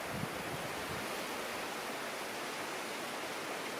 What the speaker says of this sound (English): You can probably hear the wind. It's blowing a hoolie outside of the woods.